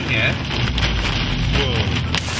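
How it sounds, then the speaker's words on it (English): Large hail pounds a car roof during a storm, a dense, loud, continuous clatter of impacts with heavy rain-like roar throughout. "That hail that's still pummeling the roof here is getting just too big."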